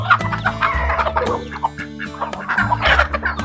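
A flock of farm chickens clucks and squawks busily on a morning farm in Albania, several birds calling over one another in a loud, continuous chatter with a low steady hum beneath.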